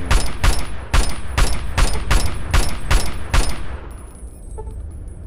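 Gunfire in Fallout 3 aimed at trogs, about ten loud, evenly spaced shots in a quick steady rhythm that stop abruptly, leaving a quieter ambient hum behind; no talking.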